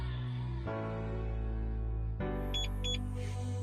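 An IF110 mini immobiliser in a car gives two short, clear electronic bleeps confirming service mode, heard close over a constant low engine-like hum.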